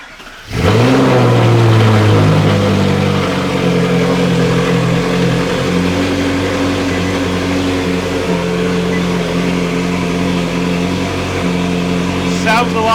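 A Ferrari 458 engine fires up just after a new intake manifold is installed, catching with a sharp rev and then settling into a loud, smooth idle close to the microphone for the rest of the stretch.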